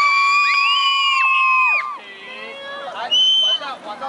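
A school class on a graduation trip cheers and screams together in a rehearsal before an evening party, with high, sliding shrieks. Two loud bursts are separated by a brief dip, and children's voices carry through.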